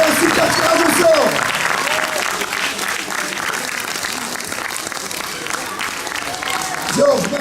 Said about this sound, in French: je vous demande d'applaudir monsieur Belebrook et monsieur Georges Lens